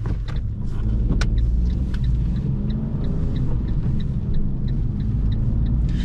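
A 2021 Fiat 500 1.0 Hybrid coasts with its engine switched off, leaving a steady low rumble of tyres and road noise inside the cabin, with a few faint clicks and no voices.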